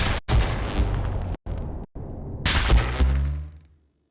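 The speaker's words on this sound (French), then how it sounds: "Vous avez aussi entendu une explosion, non?" Explosions in the video game Hell Is Others land as several loud, heavy booming bursts separated by sudden silent cuts. The last burst rumbles and tails off into silence.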